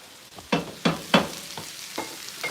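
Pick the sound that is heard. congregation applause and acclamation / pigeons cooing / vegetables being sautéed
vegetables being sautéed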